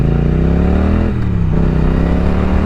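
A 2020 Triumph Street Twin motorcycle engine revs close and loud, its pitch dipping and then climbing again in a continuous throaty drone.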